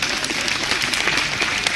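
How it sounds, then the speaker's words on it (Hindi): Audience applause in a steady, dense burst of clapping from a crowd at a comedic talk, loud and continuous with no pauses. "तो जोरदार तालियां होनी चाहिए।"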